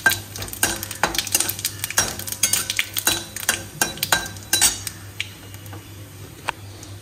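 Dried red chillies, bay leaves and cumin seeds frying in hot oil in a pan, with a low sizzle under repeated scraping strokes of a spoon or spatula against the metal in an uneven rhythm, close up with no voices.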